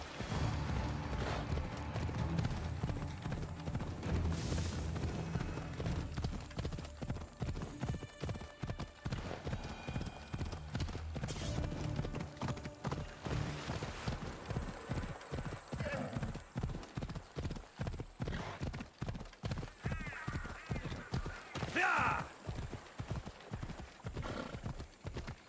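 A horse gallops under a rider in Assassin's Creed Odyssey, its hooves pounding in a steady, rapid clip-clop throughout, with occasional whinnies and a person talking over the hoofbeats.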